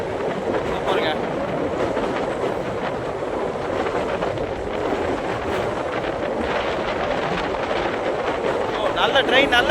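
Steady rumble of a train crossing the new Pamban railway bridge over the sea near Rameswaram, with constant wheel noise and wind rushing past the microphone, growing slightly louder at the end, while someone talks.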